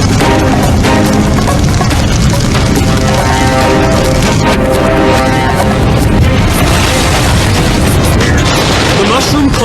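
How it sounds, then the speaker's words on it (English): A tank car full of highly flammable liquid gas explodes in a loud, sustained roar of blast and rumble, with dense broadband noise throughout and speech mixed in. "All are wary of another explosion of the highly flammable liquid gas."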